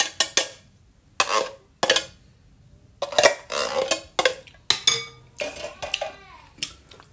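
A spoon stirs a cream-style sweet corn mixture for maja blanca in a pot, giving irregular bursts of scraping and clinking metal against cookware with short pauses between, close and fairly loud.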